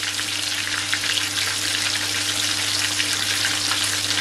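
Breaded pork schnitzel fries in a modest layer of seed oil, a dense, steady sizzle with fine crackling throughout and nobody talking.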